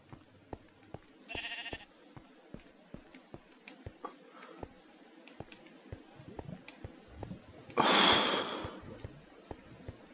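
Sheep in a video game let out two bleats, a short one early and a louder, longer one near the end, over a steady run of soft regular clicks.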